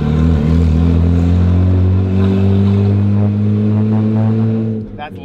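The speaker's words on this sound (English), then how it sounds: "Oh, that's super rumbly with the downpipe." A car engine and exhaust with a downpipe fitted and an air-intake mod rumble loudly and close, a steady deep drone that tails off near the end.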